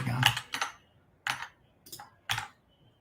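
Bursts of computer keyboard typing during a live coding demo, a few quick clusters of keystrokes separated by short pauses, close and fairly clear with no talk.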